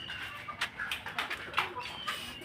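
Chickens and a rooster kept alongside doves and pigeons in a home coop cluck and call in short repeated bursts, fairly close, with faint background voices.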